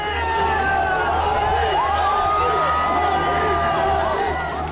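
A large roadside crowd in Punjab produces a constant loud roar of shouting and cheering as the Prime Minister's convoy passes, with whistle-like and siren-like tones sliding above it and a steady low engine hum beneath.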